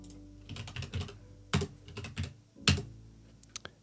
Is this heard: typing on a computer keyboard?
yes